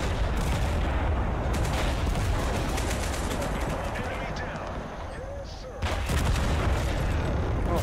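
Tank cannon blasts and heavy gunfire in a video game battle, dense rumbling booms and crackling shots layered continuously, briefly dipping before a loud burst resumes.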